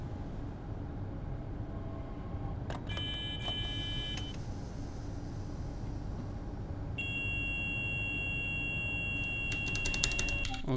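The SIFA vigilance alarm sounds in a Train Sim World 2 cab as two bursts of high, sustained electronic beeping over a constant low rumble of the train running.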